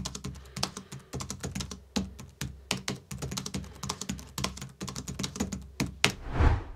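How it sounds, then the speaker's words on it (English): Steady typing on an Adesso EasyTouch 7300 slim wireless keyboard with low-profile keys, a fast, close run of soft clicks and taps with no talking. "Typing on it feels very similar to a laptop. The low profile keys are responsive."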